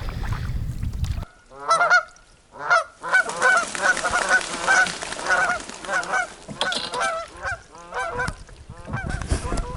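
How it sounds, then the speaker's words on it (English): A flock of geese on Georgian Bay honks loudly and repeatedly, overlapping calls crowding together close by, after a brief stretch of low rumbling background. "Were they geese?"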